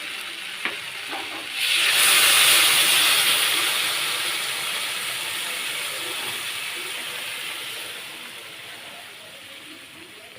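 Hot water hits fried potatoes and soybean chunks in a hot pan, setting off a sudden loud hiss that peaks and then slowly fades into a quieter, lingering sizzle.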